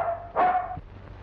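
A dog barks once, loud and close, in an old Tamil feature film, with a short quieter sound after it and otherwise near silence.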